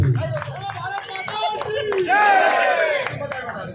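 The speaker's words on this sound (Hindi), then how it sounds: "बहुत जोरदार ताली बजा के स्वागत और सम्मान आदरणीय रघुवर दास जी।" Clapping and cheering from a crowd welcoming a former chief minister at a political rally in Patan, loud and continuous, with someone speaking excitedly over a PA system above it.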